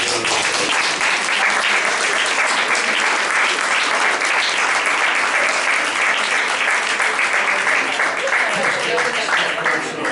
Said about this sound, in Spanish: para la cual pido un aplauso